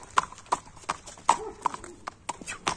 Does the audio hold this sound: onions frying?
no